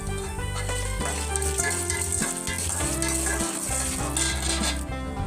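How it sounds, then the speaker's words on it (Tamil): Dried red chillies sizzle loudly in hot oil, a dense steady crackle close up, with a utensil clinking and scraping against the pan throughout. "2 மிளகாய் வந்து ஆட் பண்ணிக்கலாம், வர மிளகாய்."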